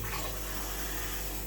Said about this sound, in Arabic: دابا غادي نضيفوا لها الماء